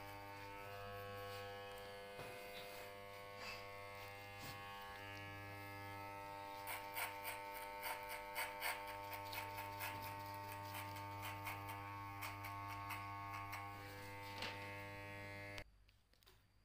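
Electric hair clipper buzzing steadily while cutting hair in a fade with a 0.5 guard, a continuous close hum with brief flutters of strokes through hair, stopping abruptly near the end.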